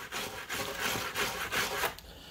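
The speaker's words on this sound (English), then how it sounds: "Let's see what the steel brush does on nothing." A steel brush scrapes across spray-painted plastic in short, rough back-and-forth strokes, about four or five close scratchy bursts with brief pauses between them, alone with no talking.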